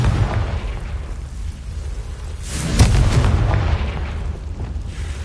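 A Confringo blasting spell goes off in the Hogwarts game, a loud booming burst near the middle over a constant low rumble of ambient noise, with no speech.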